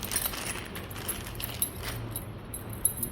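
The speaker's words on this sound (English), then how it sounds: "so they have provided you the mechanical keys, and these mechanical keys are quite strange" Mechanical backup keys for a biometric wireless door lock jingle and clink together in the hand, a loose, continuous rattle with small sharp ticks, close and moderately quiet with no speech.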